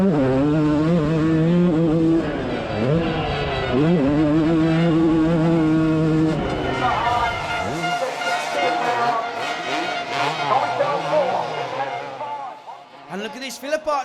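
Two-stroke motocross bikes racing, engines whining and revving up and down in sweeping pitch changes as they pass, with a commentator talking excitedly over the noise.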